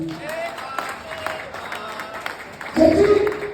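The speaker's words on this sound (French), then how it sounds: "Applaudissez pour lui." An audience at a French stand-up comedy show applauds a comedian, with scattered clapping rising to a louder burst near the end, mixed with voices.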